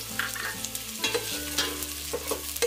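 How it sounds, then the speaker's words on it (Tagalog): Garlic, ginger and onion sauté in a pan for a sinigang of salmon head, giving a steady close sizzle with a few brief scraping stirs and low hum beneath, no voices. "gisa lang po natin tong ating bawang, luya, tapos yung ating sibuyas"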